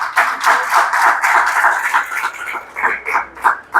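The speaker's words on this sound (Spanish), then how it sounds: "¿Cuánto le pueden dar un aplauso al Señor?" A church congregation applauds together in steady, fairly loud clapping that swells and fades in waves, with no talking.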